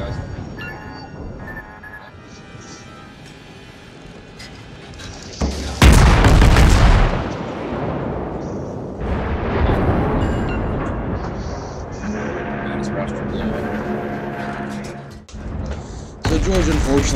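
World of Warships naval battle with heavy gun salvos booming, several loud blasts and rumbling impacts spread across the stretch, mixed with game music and a voice talking over parts of it.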